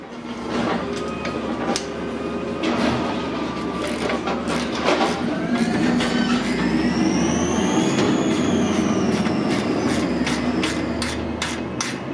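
A garbage truck working just outside: a steady engine rumble with repeated metallic clanks and bangs, and whining hydraulic tones that rise and fall. It is fairly loud, and no one speaks.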